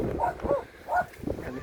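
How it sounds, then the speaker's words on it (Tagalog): A dog barks along a riverwalk in Valenzuela City, giving three or four short, moderately close barks spaced about half a second apart over faint outdoor background. "May aso. May babantay yung aso."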